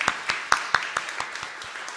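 A church congregation applauds to encourage the members of the social service committee. The clapping comes as a short run of distinct, spaced claps that fade out over two seconds.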